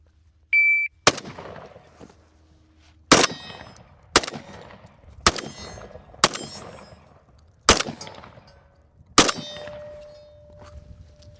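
A Beretta 1301 shotgun fires seven loud, sharp blasts at roughly one-second intervals, each followed by a metallic ring from the steel targets, with a short high tone at the start.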